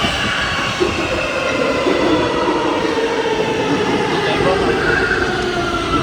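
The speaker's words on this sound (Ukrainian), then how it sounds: "Так що ми сідаємо в метро." A Warsaw metro train rumbles steadily close by in the underground, its continuous wheel and car noise filling the space for several seconds, with faint speech mixed in.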